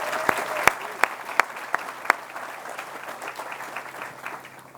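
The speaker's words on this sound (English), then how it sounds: "So give yourselves a round of applause for that." Outdoor audience applause at a university athletics groundbreaking ceremony, a moderate crowd clapping steadily with several sharp, close individual claps standing out early, then tapering off.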